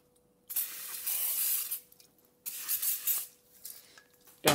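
A can of aerosol spray hisses in long bursts, two sustained sprays followed by shorter spurts and a sharp sound at the end.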